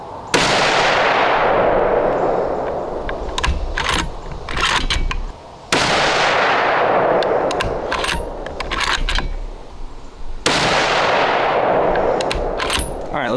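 Three loud .30-06 rifle shots fired with Federal Fusion 180-grain tipped ammunition, spaced about five seconds apart, each a sharp crack with a long decaying echo, with small clinks and handling sounds in between.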